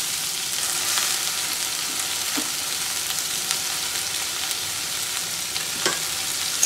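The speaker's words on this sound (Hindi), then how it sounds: "तो प्याज को हल्का सा लाल करेंगे, ज़्यादा नहीं। आलू भी इसमें डाल देंगे, दोनों एक साथ हो जाएगा।" Onions and potatoes fry in hot oil for a mushroom masala, giving a steady, close sizzle with a few faint clicks of stirring and no voices.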